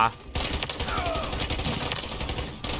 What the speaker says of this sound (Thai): งั้นเราใส่ป้อมปืนนี้แล้วกันฮะจะได้ให้ป้อมปืนช่วยยิง